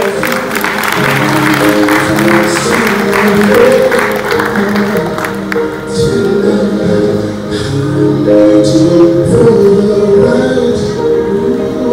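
An audience applauds at a diploma ceremony of the Institut de Formation Appliquée, a sustained mass of clapping blended with music and some voices, loud and continuous throughout.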